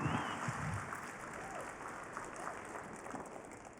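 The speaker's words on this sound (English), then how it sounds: "Give him a big round of applause" Faint applause from a large keynote audience at Cisco Live in Las Vegas, fading slowly from its start, with a low murmur of voices underneath.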